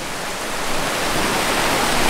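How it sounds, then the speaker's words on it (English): A river in Sumatra rushes past in a steady, loud, close wash of flowing water that swells slightly over the moment, with no voices. "I'm gonna take my shower in the river"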